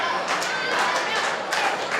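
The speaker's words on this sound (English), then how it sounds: "As this crowd builds up, this capacity crowd solidly behind Rhino" A packed capacity wrestling crowd at a live match roars steadily, dense cheering with scattered claps and thumps, loud and continuous throughout.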